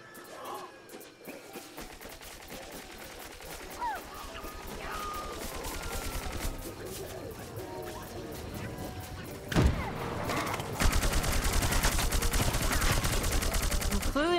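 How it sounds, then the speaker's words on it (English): Rapid gunfire from a Plants vs. Zombies: Garden Warfare 2 match on PS4 crackles steadily throughout, growing denser and louder toward the end with a sharp blast near the middle, while a player's voice talks over it. "Who is firing at me?"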